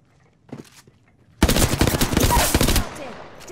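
Burst of rapid automatic gunfire in Apex Legends, loud and dense after a couple of faint earlier taps, rattling for over a second before trailing into a softer tail.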